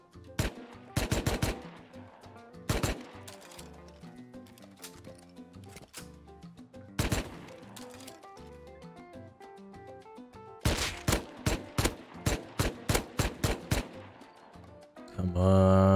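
Video game gunfire from an online raid: clustered bursts of rapid, sharp shots in several volleys separated by brief pauses, loud and close, with no talk over them.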